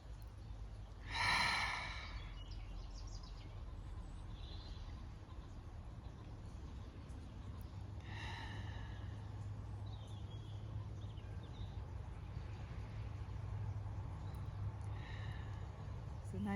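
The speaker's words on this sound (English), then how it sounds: "Let's take 3 breaths here." Slow, deep breaths during a guided restorative session: a soft audible inhale-exhale near the start and two fainter breaths later, set against a quiet steady background hum with no speech.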